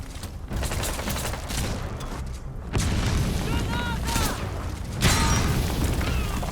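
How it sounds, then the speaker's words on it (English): Grenade explosions in Metal Gear Solid 5: The Phantom Pain, two heavy bursts a few seconds apart over ongoing combat noise, with a voice talking through it. "I'm just chucking grenades from cover like a bitch"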